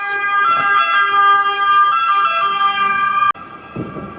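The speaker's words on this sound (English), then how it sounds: "Is that ambulance?" An ambulance siren wails loudly and steadily close by on a city street in Turin, its warbling tone holding for several seconds before cutting out abruptly, followed by faint street noise.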